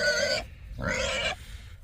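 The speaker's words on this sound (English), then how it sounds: "Loud pig." A loud pig on a family farm grunts twice in quick succession, close by, with a short gap between the two sounds and no talk over them.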